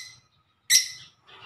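Pet lovebirds give a few short sharp chirps, one bright close call standing out between brief pauses, with softer chatter at the end.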